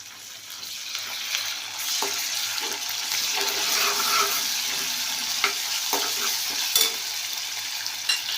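Ginger-garlic paste sizzles and fries in a pan with browned ingredients, a steady broadband hiss with occasional stirring clicks and scrapes, close and moderately loud, with no talking.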